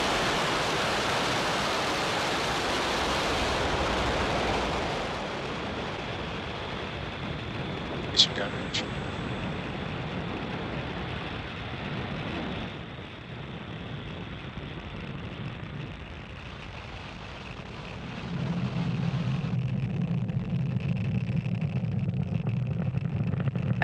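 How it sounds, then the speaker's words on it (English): Falcon 9 rocket carrying Starlink satellites lifts off from Pad 40 at Cape Canaveral Space Force Station, a loud, continuous broadband roar that thins after a few seconds and then swells into a deeper, heavier rumble. "Engines full power. And liftoff of Starlink 5-2."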